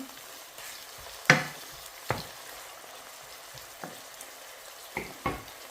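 Steady soft sizzling of dried porcini mushrooms in a pan, broken by several sharp scraping knocks of a utensil stirring at irregular intervals.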